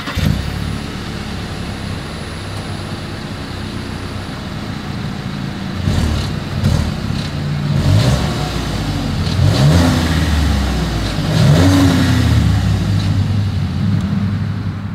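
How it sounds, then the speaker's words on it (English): Exhaust of a 2022 Volkswagen Tiguan SUV, steady idle drone broken by several rising and falling revs in the second half, each swell loud and close with a little outdoor hiss around it, no voices. "As always, here is that exhaust clip."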